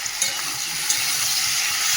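Poppy seed and green chilli paste going into a hot frying pan, giving a continuous bright sizzle up close with light stirring scrapes and a couple of small pops.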